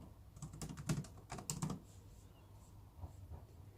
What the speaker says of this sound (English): you can click straight onto the relevant boxes and type straight onto them